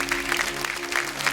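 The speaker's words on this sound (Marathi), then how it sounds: "एकदा जोरदार टाळ्या भाऊजींसाठी झाल्या पाहिजे." A TV show audience claps steadily for a brief moment, a dense even patter of many hands.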